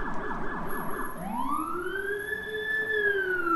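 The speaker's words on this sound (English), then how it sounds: "Ambulance or fire or whatever that is." A wailing emergency vehicle siren, ambulance or fire truck, first yelps in fast rapid cycles, then switches to a long slow rising wail, loud and steady, with traffic noise underneath and no speech.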